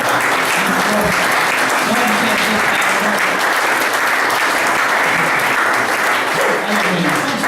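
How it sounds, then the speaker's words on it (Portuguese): A church congregation at a worship service applauds loudly and steadily throughout. A person speaks over the continuous clapping. "Você pode dar um aplauso bem forte para Jesus?"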